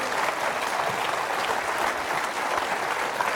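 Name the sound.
studio audience applause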